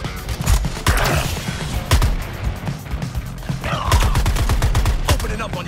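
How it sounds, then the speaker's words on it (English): Rapid bursts of gunfire from the video game Suicide Squad: Kill the Justice League, loud and close, in repeated volleys with sharp crashing impacts between them. "Opening up on your target, Shark."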